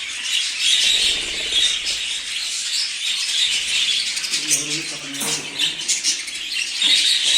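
Texas Gold budgerigars chirping in a breeding aviary, a dense, constant chorus of high twittering calls from many birds nearby, with someone talking briefly in the middle.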